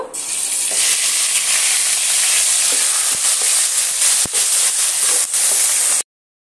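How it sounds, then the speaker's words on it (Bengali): Onion paste frying in a pan for veg biryani, a loud continuous sizzle with occasional stirring scrapes and ticks throughout before it cuts off abruptly. "পেঁয়াজটা আমার ভালো করে আমি কষিয়ে নেব।"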